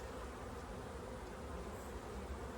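Honey bees in a beehive make a dense, continuous buzzing drone, close and steady throughout without pauses or voices.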